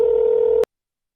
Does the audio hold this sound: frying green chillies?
no